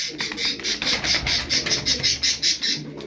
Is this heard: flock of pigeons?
yes